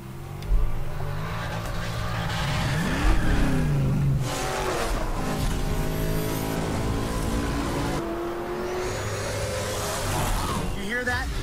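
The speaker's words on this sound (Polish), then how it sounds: "You hear that? That's the sound of all American Muscle." An American muscle car engine revving and accelerating in the racing game Shift 2 Unleashed, a loud, steady roar with rising pitch sweeps and some tire noise, running under someone talking throughout.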